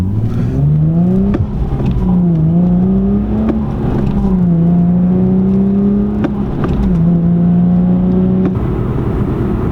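A 2012 Infiniti G37 sport sedan accelerates steadily, its engine note climbing through several gear changes with brief dips between shifts, loud and continuous from inside the car with no talking.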